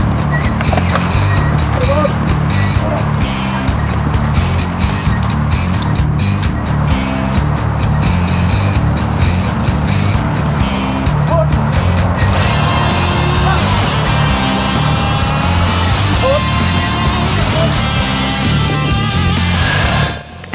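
Heavy Harley Davidson MT350 military motorcycle on a race course, a steady loud engine drone with tire and crowd noise continuing throughout, nearby and unbroken.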